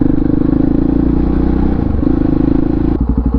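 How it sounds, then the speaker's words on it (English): A Honda XR650R motorcycle engine runs close and loud with a steady, rapid thumping pulse, then shifts into a slower, choppier beat near the end. "the amazing thing is the sound that this bike makes. Even at slow speeds it sounds good."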